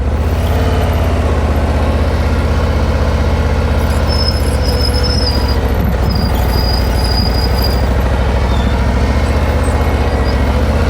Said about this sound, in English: No change in my engine. And my brakes are squeaking good.